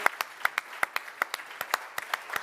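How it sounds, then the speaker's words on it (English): Light applause from a small audience at a global summit session, a dozen or so distinct claps spaced irregularly and fairly quiet, with no voices over it. "please, a round of applause,"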